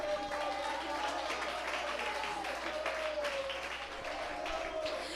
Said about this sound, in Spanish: Y si va a aplaudirle, apláudale